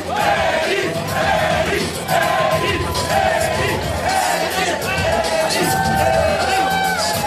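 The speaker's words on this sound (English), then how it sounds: "And this crowd is hot!" A wrestling arena crowd cheers and roars loudly and continuously, with whoops and shouted cries rising and falling in waves throughout.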